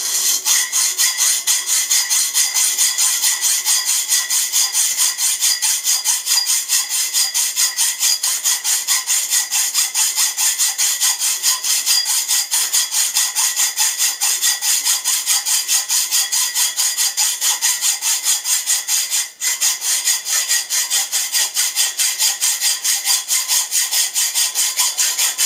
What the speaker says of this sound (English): it's just as quick to cut these little 3/8 inch sections off by hand